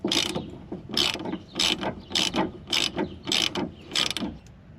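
A ratchet wrench tightens a 10 mm nut on a car's sway bar link, giving about eight quick bursts of ratcheting clicks in a steady rhythm, close and clear with no talking.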